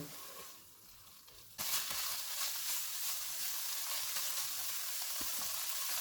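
Beef filling for kurkure momos fries in a pan over low to medium heat, with a steady close hiss of sizzling oil that jumps louder after a soft start and continues with occasional stirring knocks.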